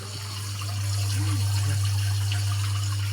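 Water gushes steadily from a detached tap, a continuous close rushing spray over a strong low steady hum, with no one speaking.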